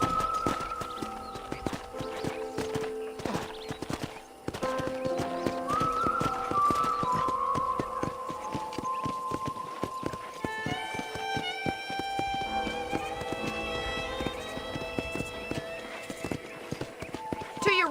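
Rhythmic clip-clop of horse hooves at a steady pace in the video game Red Dead Redemption, with a neigh and layered musical tones over the riding.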